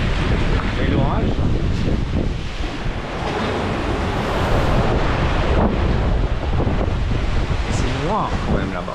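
Strong wind roars across the microphone aboard a sailboat crossing the Atlantic solo in heavy weather, with waves washing constantly underneath. The noise is loud and unbroken throughout, with faint voice traces buried in the gusts.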